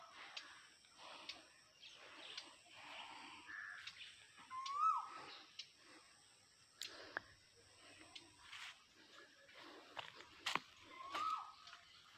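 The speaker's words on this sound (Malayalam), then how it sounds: "എന്തൊക്കെയോ കിളികളെ ശബ്ദങ്ങൾ ഇങ്ങനെ തലങ്ങും വിലങ്ങും കേൾക്കാണ്ട്" Faint scattered bird calls and chirps come from different directions over a quiet outdoor background, with occasional clicks and soft ticking sounds.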